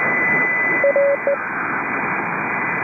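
A short burst of CW Morse code tones cuts through steady hiss on an amateur radio net, a few quick dits and dahs at moderate level over band noise, with no speech.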